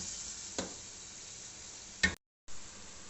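Potatoes and chickpeas frying and stirred in a pan for a chicken junglee pulao: a steady low sizzle broken by a couple of scraping strokes, with a short gap of silence near the end.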